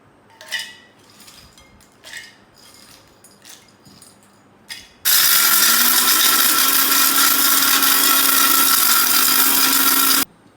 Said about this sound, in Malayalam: ആദ്യം കപ്പ പൊടിച്ച് കൊടുക്കാമേ